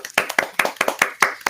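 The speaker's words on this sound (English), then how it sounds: "Round of applause for Chris." A small audience claps at a talk show, about seven or eight sharp, evenly spaced hand claps in quick rhythm, close and distinct, lasting under two seconds.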